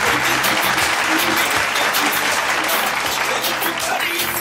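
Theatre audience applauding steadily on stage introductions, a dense, loud wash of clapping hands that continues without pause, with faint voices mixed underneath.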